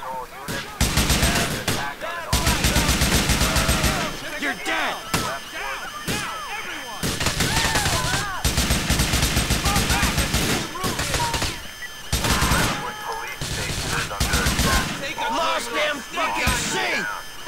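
Bursts of rapid gunfire in the video game GTA IV: The Lost and Damned, loud and close, come in repeated volleys separated by short gaps, with shouting voices mixed in.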